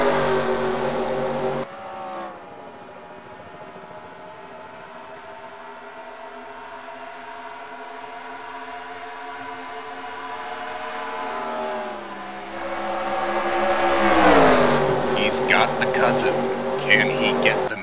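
Race cars roar around Pocono Raceway during the Pocono 400, a sustained loud engine drone with shifting pitch, swelling near the end as cars sweep past, under excited commentary.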